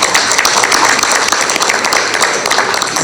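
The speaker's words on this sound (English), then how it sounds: "You are clapping without knowing the first he scored." An audience at an aviation summit applauding, a loud, continuous patter of many hands clapping in a hall for about three seconds.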